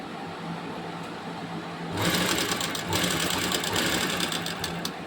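A sewing machine stitches a four-tuck blouse, starting abruptly after a quieter lead-in and then running at a steady, fast, continuous whir with fine rapid clatter, close and loud.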